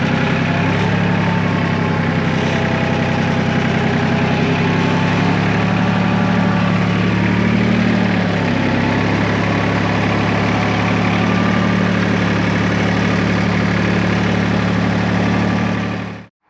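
A Jinma 254 Chinese compact tractor's diesel engine idles steadily on a 50/50 blend of waste motor oil. It gives a continuous, close, even drone with a low throbbing hum, and no voices are heard over it.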